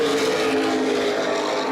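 Late model race cars roar down the back straightaway at Baer Field Speedway during the 2011 Gold Cup 75, a continuous blended engine drone heard from trackside.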